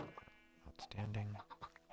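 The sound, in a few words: chickens clucking in Minecraft video game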